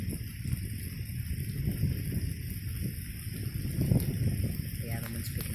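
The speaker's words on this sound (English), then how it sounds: "Yeah, the wind's picking up." Wind picking up outdoors during rain, a steady low rumbling roar buffeting the microphone, swelling and easing in gusts throughout.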